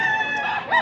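A single rooster crows once, close and loud, in a short sustained call that rises at the end.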